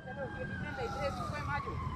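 An ambulance siren wails steadily in the background, its pitch sliding as it passes by amid traffic noise and a voice.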